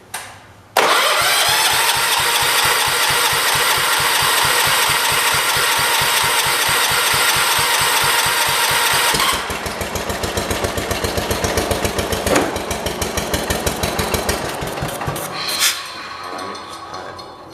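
A 1977 John Deere 212 lawn tractor's small engine cranks with a fast, steady rhythmic chugging, then catches and runs unevenly with rattling bursts before sputtering down at the end. The sound is loud and close, with no voices.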